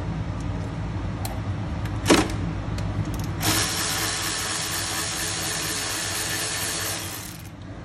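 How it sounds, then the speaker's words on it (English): A battery-powered tool whines steadily for several seconds as it runs out brake caliper bolts on a Harley-Davidson front wheel, preceded by a brief clank in a workshop, with no talking. "makes it a lot easier for me to have the electric or the battery operated tool to go ahead and remove these"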